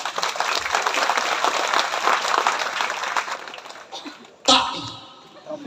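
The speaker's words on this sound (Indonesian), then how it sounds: "Tepuk tangan." Church congregation applauding a men's vocal group: dense, lively clapping for about four seconds that tapers off, followed by a voice speaking and scattered remaining sounds.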